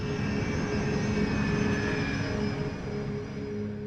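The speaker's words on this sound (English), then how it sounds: "jet engine works by sucking in enormous amounts of air" Jet aircraft engine heard as a steady, moderately loud roar with a sustained whine over a broad rumble, holding level throughout without speech.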